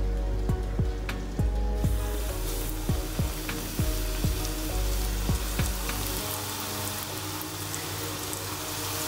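Festival dumplings frying in hot oil, a dense, close sizzle with a series of light clinks and taps from the pan, which quiets partway through; no one speaks.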